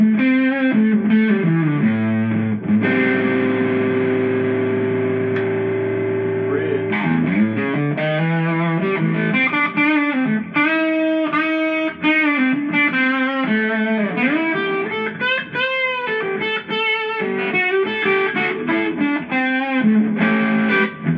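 A relic Tele-style electric guitar with Wilkinson Vintage Voice pickups, neck and bridge pickups combined, plays a continuous run of sustained chords and melodic lines with distortion, loud and close throughout.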